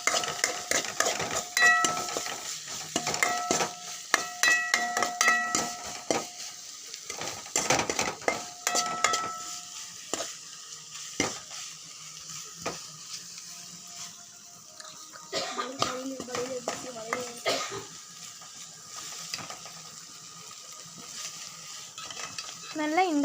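Dry prawns salted and stir-fried in a pan: faint sizzling with scraping and clinking of a spatula against the pan, stirred in irregular strokes, a quiet kitchen scene.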